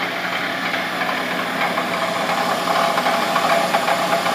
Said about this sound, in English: What's our RPM on that motor under load?